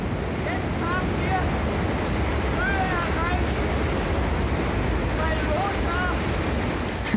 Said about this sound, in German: jetzt hat der Wind die Geschwindigkeit der stärksten Lothar-Böe erreicht